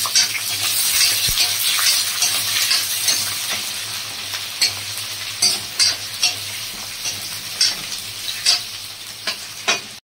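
Chopped onion frying in a pan for swamp eel gravy, a steady dense sizzle throughout with stirring scrapes and soft clinks toward the end, close and alone with no talk.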